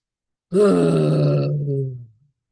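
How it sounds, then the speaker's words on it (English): A deep human vocal grunt exhaled during a breathing exercise, one sustained, loud, close, voiced groan lasting about a second and a half before trailing off. "and grunt it out."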